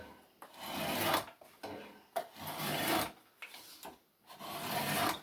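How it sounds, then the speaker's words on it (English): A draw knife shaves green, wet wood clamped in a shaving horse, giving close raspy scraping strokes in an irregular rhythm of about five pulls with short pauses between, heard alone. "So here's my draw knife, here's my shaving horse."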